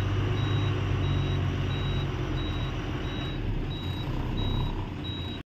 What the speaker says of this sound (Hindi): अपने साथ जो गाड़ी है वो ये चल रही है अपने आगे